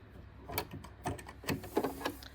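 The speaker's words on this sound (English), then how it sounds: "I'm just going to unscrew that one there" Screws being unscrewed on a front-loading bobbin sewing machine make a close, irregular run of small clicks, scrapes and handling knocks over a couple of seconds, with no talking.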